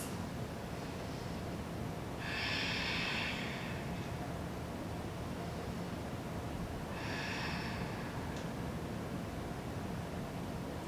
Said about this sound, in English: let's take 3 more deep, beautiful breaths